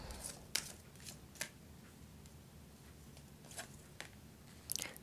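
Oracle cards shuffled by hand, giving soft papery riffles and scattered sharp flicks in short bursts, close and quiet, with no talking.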